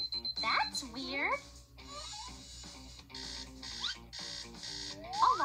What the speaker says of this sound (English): Alarm clock? No, thanks.